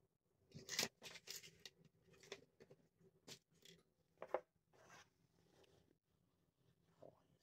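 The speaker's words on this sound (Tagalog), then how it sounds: "may gunting pala ako dito" Scissors cut the tag off a baseball cap with a series of faint, close snips and rustles spread unevenly over several seconds, and the scene is otherwise quiet.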